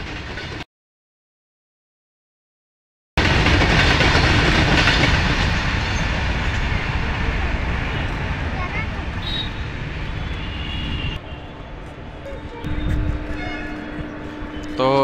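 A passenger train arriving at a station beside a busy vegetable market, a loud continuous rumble with rail clatter that builds after a short silence, then eases slightly while people talk over it.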